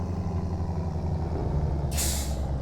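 Tractor in BeamNG.drive with faulty brakes, its steady low engine rumble broken near the end by a short, loud hiss of air brakes releasing.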